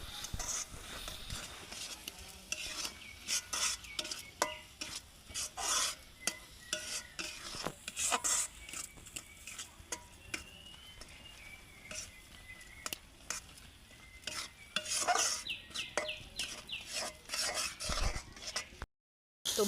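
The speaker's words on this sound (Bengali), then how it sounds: "এবার মশলাটা কষিয়ে নিই।" Spice paste for pork curry is stirred and fried in a pot, with quiet, uneven scraping and rasping strokes of a utensil over a faint sizzle and no talking.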